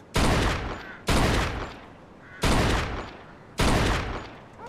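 Four loud, close gunshots in the Mafia II video game, each a sharp blast with a decaying tail, spaced about a second apart, with no talking.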